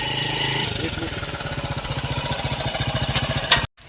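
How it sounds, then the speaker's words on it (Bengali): A small motorbike engine putters in rapid, steady pulses, growing slightly louder as it nears, then cuts off abruptly. "এই যে একটা বাইক আইতাছে রে"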